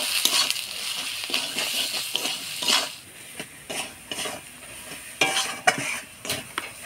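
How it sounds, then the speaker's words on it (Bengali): Chicken stirred in a pan with turmeric, salt and chili powder: a busy sizzle under repeated close scrapes and clinks of a metal spoon against the pan, irregular and continuous. "হলুদ, স্বাদ মতো লবণ, দেব লঙ্কার গুঁড়া দিয়ে নাড়াচাড়া করে নিব।"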